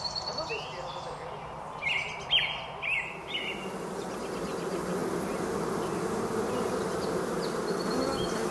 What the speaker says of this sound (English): where the birds are chirping here at Capilano River Regional Park in North Vancouver, and the bees are buzzing